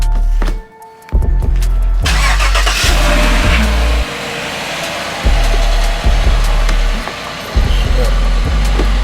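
A Chevrolet Silverado pickup truck engine idles and revs loudly up close, cutting out and restarting, with steady rumbling between bursts of acceleration.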